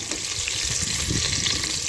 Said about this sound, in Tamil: சோம்பு, வெங்காயம், பச்சை மிளகாய் இதெல்லாம் போட்டு